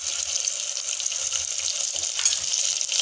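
Whole onions fry in a pan for a garlic curry, giving off a steady, close hiss of sizzling oil that runs unbroken with faint low stirring bumps underneath.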